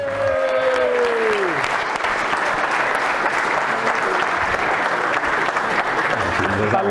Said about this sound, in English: Please give a big round of applause for Harry Harrigan!